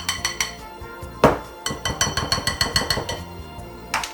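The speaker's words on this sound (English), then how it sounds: "Do not over mix the dough." A utensil repeatedly knocks and scrapes against a bowl while dumpling dough is mixed, giving a steady series of close clinks and taps with one louder clank.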